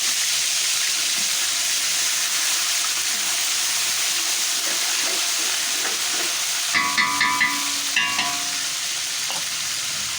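Pickle with ginger-garlic paste frying in a pan for Achar Gosht, a steady loud sizzle throughout with a few sharp stirring clinks of a utensil near the end.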